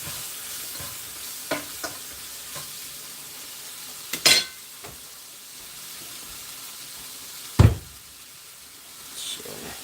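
Ham and onions frying in a pan, a soft steady sizzle with occasional knocks and scrapes of a utensil stirring, including a louder clunk near the end.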